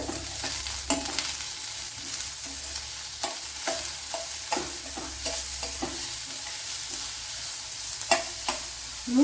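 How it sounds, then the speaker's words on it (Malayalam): Sliced onions with salt fry in a pan, a continuous sizzle broken by repeated scraping stirs at an irregular rhythm, close and clear with no talking. "സവാള ഒന്ന് വഴണ്ട് വരണം സവാളയൊക്കെ വെന്ത് വന്നിട്ടുണ്ട്"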